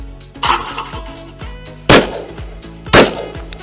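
An IZh-12 shotgun from 1968 fires, giving several sharp, loud reports, each a sudden crack with a ringing decay, spaced about a second apart.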